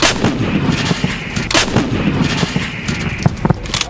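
Rapid, loud firing from a lightweight titanium-aluminium alloy US Army artillery gun in Afghanistan, with repeated sharp blasts and booming reports rolling over one another close by, with no talk.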